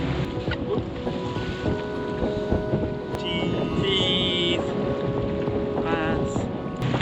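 A fishing boat cruises back toward harbour on a UK sea-fishing trip, its engine a steady droning rumble with wind buffeting the microphone and water washing past, a few faint higher tones drifting in over the constant roar.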